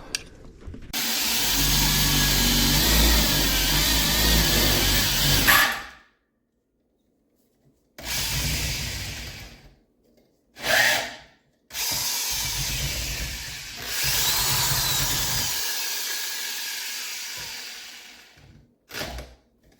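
A power drill whirs in several long and short bursts, loud and close, separated by pauses of silence, while fitting LED lights to a Kioti tractor.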